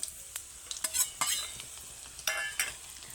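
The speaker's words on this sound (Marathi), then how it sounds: "आपण गाजर सगळ्यात आधी व्यवस्थित परतून घेणार आहोत" Carrots sauté in oil, a soft sizzle punctuated by several sharp scrapes and clatters of a spoon stirring in the pan, with no voices.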